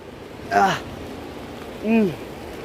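Steady soft rain hiss fills the background while two brief voice bursts rise above it.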